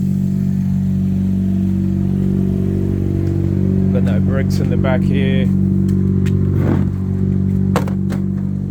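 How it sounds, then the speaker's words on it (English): Idling engine of a Mazda RX-8 drift car being moved, a steady low rumble running throughout with someone talking over it and brief clatter midway. "I'll move the car."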